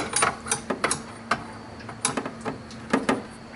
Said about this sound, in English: Once I get the bottom line broke loose with the line wrench